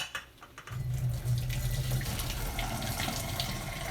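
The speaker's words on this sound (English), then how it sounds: "I'm straining that pasta." Pasta being strained by pouring cooking water from a pot held with its lid, a loud continuous rushing gush that starts after a short pause and keeps flowing steadily to the end.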